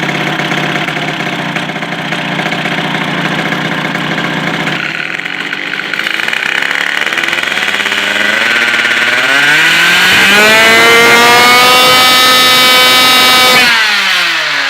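A small two-stroke engine fitted with a 28 mm carburettor idles with a buzzy, uneven putter, then revs up sharply to a loud, high-pitched wail and holds near the top before dropping off at the end.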